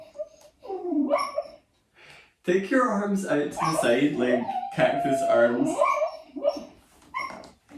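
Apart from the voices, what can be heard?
puppy whimpering while dreaming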